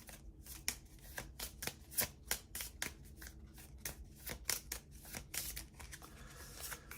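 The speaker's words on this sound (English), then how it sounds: "Let's shuffle these cards back up." A deck of playing cards for a Marvel Legendary tabletop game is shuffled in a run of quick, crisp riffling bursts, close and fairly loud, with no talking.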